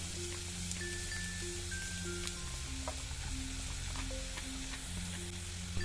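Chopped vegetables sautéing in coconut oil in a pan, a steady close sizzle and crackle running throughout with occasional stirring taps, no voices.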